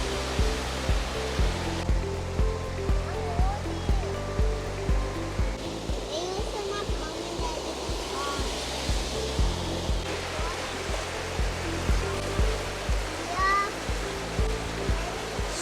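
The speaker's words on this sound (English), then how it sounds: "Now overnight rain has brought so much water into this canal." Rainwater rushing through a canal beside a bridge after overnight rain, a steady broadband roar of flowing water heard from nearby, with a regular low thumping and brief voices over it.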